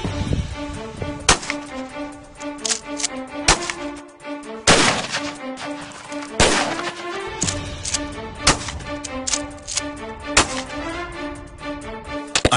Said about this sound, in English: I just had to take a couple shots myself at the melons.